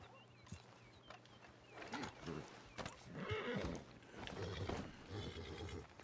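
A horse in the video game Red Dead Redemption 2 snorts and neighs amid hoof clatter and gear noise, with voices talking over it throughout.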